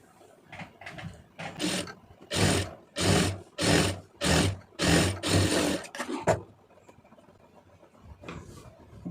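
A sewing machine stitches a saree border onto a puff sleeve in a series of short, loud, whirring bursts with brief pauses between them, then goes quiet near the end.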